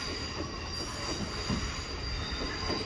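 A London Northwestern Railway train passes through Northampton with a sustained high metallic wheel squeal over a constant loud rumble, no voices.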